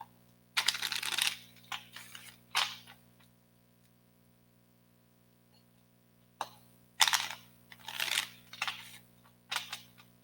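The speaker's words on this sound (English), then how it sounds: "Let me do a little bit of shuffling for this deck." A deck of tarot cards being shuffled in short bursts of crisp riffling and flicking, with quiet pauses between them and a faint steady hum underneath, close and soft.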